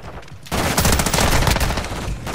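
Gunfire from an MST weapon in Call of Duty: Modern Warfare on the Shipment map, a rapid automatic burst that starts abruptly after a short quieter lead-in and rattles on loud and close to the end.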